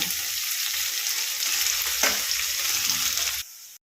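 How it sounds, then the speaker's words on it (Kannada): Curry leaves crackling in hot oil in a pan while cooking spicy black pepper rice, a dense continuous sizzle that swells briefly, then cuts off abruptly. "ಕರ್ಬೇವಿನ ಸೊಪ್ಪು ಸ್ವಲ್ಪ ಹಾಕ್ಕೊಳ್ತಾ ಇದ್ದೀನಿ ಹಾಕ್ಕೊಂಡು ಫ್ರೈ ಮಾಡ್ಕೊಳ್ಳೋಣ"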